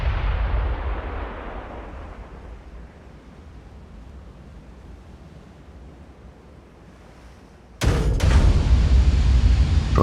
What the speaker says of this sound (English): Looks like the 8-inch battery is engaging the destroyer over there.